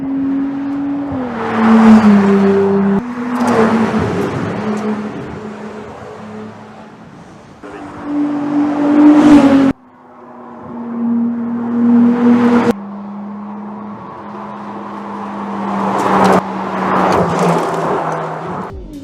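A 2021 Ferrari 296 GTB engine revs up and drops back repeatedly, its loud, tonal note rising in pitch and volume with each push before abrupt cuts, with no voices over it.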